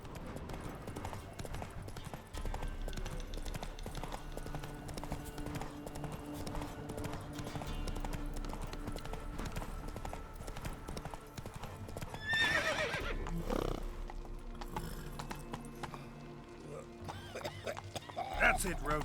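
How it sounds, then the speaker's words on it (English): Horse galloping and neighing in the video game The Witcher 3, steady clip-clop hoofbeats over a continuous game soundscape, with a whinny partway through and someone talking over it. "That's it, Roach."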